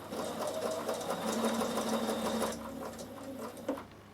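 Bernina sewing machine stitching a seam in chiffon fabric, a close steady whirring hum with rapid needle clatter that stops abruptly near the end, followed by a quieter mechanical click.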